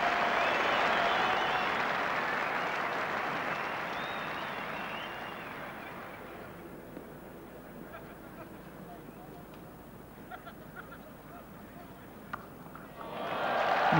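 Spectators at an England versus Australia Test match at Trent Bridge give a burst of applause that gradually fades to near quiet, then a fresh swell of crowd noise rises at the very end.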